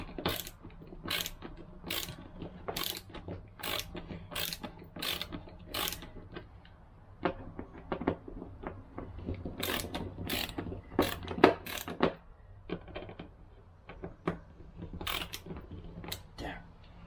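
Screwdriver tightening the screw of a doorbell button at a house entrance, a series of sharp, close ratcheting clicks in quick bursts with short pauses between them.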